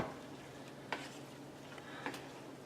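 A spoon stirs red Thai curry with tofu in a pan, giving two distinct scraping strokes over a soft, continuous simmering sizzle, close and fairly quiet.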